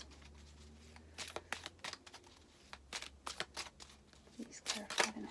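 Tarot cards are shuffled by hand in a series of quick, soft riffling bursts, close and quiet, with a faint hum underneath.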